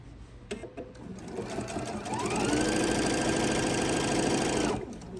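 A sewing machine runs steadily, stitching straight down a Noel tree skirt, its motor whirring loud and continuous for several seconds after a brief start, then stopping.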